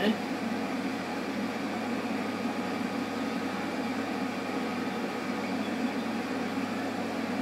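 Steady engine drone of a large John Deere tractor driving in the video game Farming Simulator 22, a continuous even hum with no breaks, with a person talking over it.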